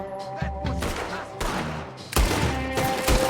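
Gunfire rings out in Red Dead Redemption 2, several loud shots and bursts crackling over a few seconds, with heavier booming reports near the end.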